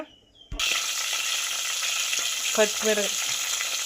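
Curry leaves, garlic and cumin hit hot oil for a tempering, bursting into a loud, sudden sizzle that holds steady and crackles, with a few sharper pops and spatters partway through.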